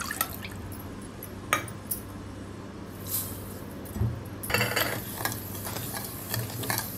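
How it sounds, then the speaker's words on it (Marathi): Milk and sugar being stirred together by hand for shankarpali dough, with soft liquid swishing and occasional spoon taps against the bowl, close and fairly quiet, a steady faint hum underneath. "आपल्या दूध आणि साखर मिक्स करून घ्यायची"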